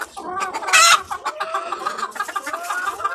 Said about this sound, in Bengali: এই যে মোরগ